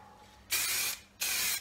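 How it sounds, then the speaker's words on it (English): A spray can sprays paint onto the side of a box in two close, loud bursts of hiss, each about half a second long, with a short gap between them. "I'm just going to do a little test spray on the side of this box"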